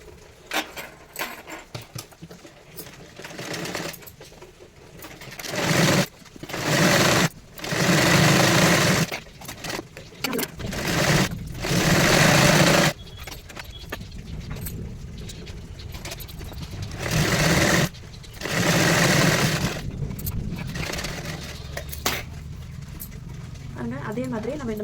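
Sewing machine stitching a blouse lining edge in repeated short bursts of rapid mechanical chatter, separated by pauses while someone talks throughout.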